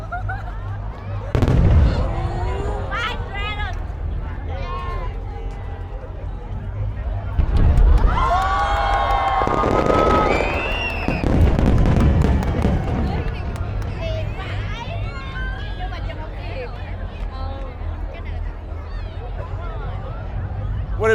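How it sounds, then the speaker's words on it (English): A New Year's Eve fireworks display over the Saigon River sends deep booms and crackling bursts repeatedly, with a cheering crowd and people talking and shouting throughout. "Good fireworks show?"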